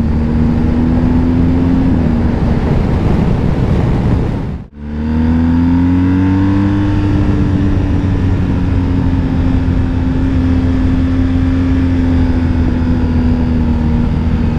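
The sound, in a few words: BMW R 1250 GS motorcycle engine accelerating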